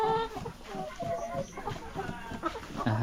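Hens on a small farm clucking close by, a busy overlapping chatter of short calls throughout, with a louder squawk at the end.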